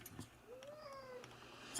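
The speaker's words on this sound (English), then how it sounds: "Why are you mewing?" A kitten gives a single drawn-out, rising-then-falling mew that sounds almost like a wolf cry, fairly close and clear over quiet room noise.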